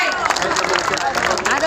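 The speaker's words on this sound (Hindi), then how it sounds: "जोरदार तालियों के साथ स्वागत किया जाए" Audience at a Lodhi Diwas gathering in Bulandshahr applauds to welcome a speaker, with dense, steady clapping and crowd murmur filling the whole stretch.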